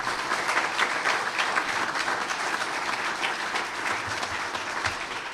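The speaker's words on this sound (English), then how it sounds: "How about a round of applause for a lot of folks who've been working really hard?" A town hall audience in Tampa gives a round of applause, a thick, continuous wash of many hands clapping at steady loudness for the whole stretch.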